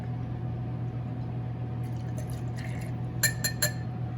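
Canadian whiskey is poured into a jigger in a quiet room with a low background hum. A soft liquid trickle is followed by a few bright glass clinks near the end.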